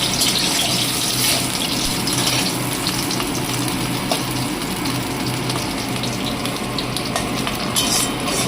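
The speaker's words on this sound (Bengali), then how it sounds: "ওই তেলে বেগুনগুলো ভেজে নেব" Eggplant pieces frying in hot oil in a kadai while cooking Bengali sukto, giving a steady, dense sizzling hiss that stays even and close throughout with no talking.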